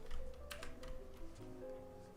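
Soft, quick taps on a computer keyboard patter in an irregular rhythm, faint and close, layered under a quiet tonal background.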